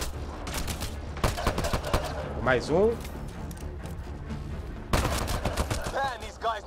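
Rapid bursts of gunfire in the video game Mass Effect Andromeda, loud and repeated, with someone speaking briefly in Portuguese between the volleys.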